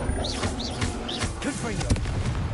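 Confringo blasting spell in the Hogwarts Legacy video game: dense, continuous rumbling explosive blasts with sharp crackling bursts, loud and close, layered over busy game sounds.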